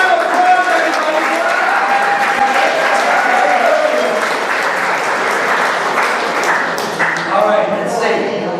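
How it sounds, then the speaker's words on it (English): A crowd at a live magic show claps loudly and continuously, with cheers and voices mixed into the steady applause throughout. "Give a big round of applause, everybody."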